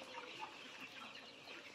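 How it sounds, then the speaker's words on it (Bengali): Young broiler chicks, 38 days old, on a poultry farm, clucking and peeping together as a steady, dense flock murmur throughout, with no talk. "আমার যে নতুন এই ফার্মের মুরগির বাচ্চাগুলা আলহামদুলিল্লাহ সুস্থ এবং সবল"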